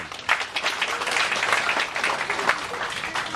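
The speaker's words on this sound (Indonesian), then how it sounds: "Tepuk tangan." Audience at a Christmas celebration gathering of the Batu Tallu community applauding, a dense steady patter of many hands clapping close by, continuing throughout without a break.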